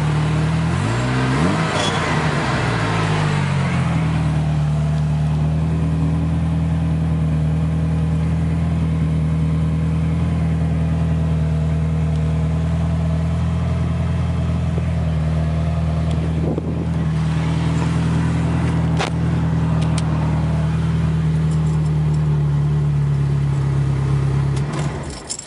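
A 1985 Ferrari 308 GTS engine rises briefly in revs, then settles into a long, steady, loud run with a smooth even drone, heard close with no talk.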